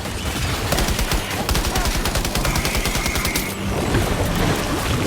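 Rapid gunfire in Death Stranding 2: On the Beach, dense bursts of automatic shots hammering in quick succession, loud and sustained throughout.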